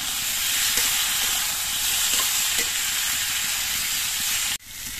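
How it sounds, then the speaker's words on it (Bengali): Vegetables for a bitter neem shukto hit hot oil and sizzling ginger in a pan, giving a loud, steady frying hiss with faint stirring scrapes, cut off abruptly near the end. "আদাটা একটু ভেজে নেওয়ার পর এর মধ্যে আমি সব সবজিগুলো দিয়ে দিচ্ছি।"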